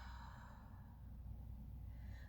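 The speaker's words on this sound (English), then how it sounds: "Inhale. And exhale." Steady, soft breath sound from a yoga breathing exercise, one long continuous exhale heard close and fairly faint with no talking.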